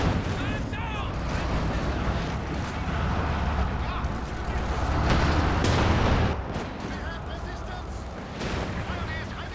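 Artillery barrage in the strategy game Company of Heroes 2, with dense, rumbling shell fire and scattered blasts rolling under a commentator's steady talk, swelling slightly partway through.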